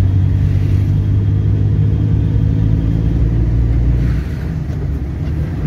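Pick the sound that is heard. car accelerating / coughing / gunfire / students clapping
car accelerating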